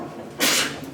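A single short sneeze bursts out sharply in a quiet room during a talk on persuasion, about a quarter second long and fairly close.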